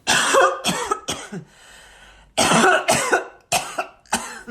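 A series of harsh, wet coughs in close bursts, a short pause, then several more hacking coughs, loud and near.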